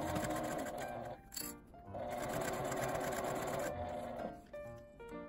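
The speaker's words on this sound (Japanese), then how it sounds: "今縫った縫い目の下を縫います。" A sewing machine stitches a 12 cm zipper onto a small L-shaped fabric pouch, running in loud, close bursts with a brief pause in between and no talking.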